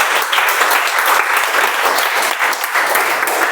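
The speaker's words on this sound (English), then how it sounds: "let's give a huge round of applause for our president of the club" A crowd at a Toastmasters club meeting bursts into sustained applause for the club president, dense steady clapping from many hands at even loudness throughout, with no talking over it.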